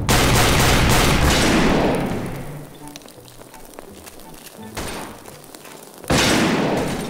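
Sustained gunfire from a weapon in the video game Garry's Mod DarkRP, a loud rapid burst that tails off, then another short volley and a fresh loud burst near the end.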